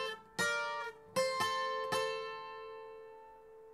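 A requinto guitar picks a short riff, several bright plucked notes struck in a loose rhythm, close and clean, the last ringing chord left to fade.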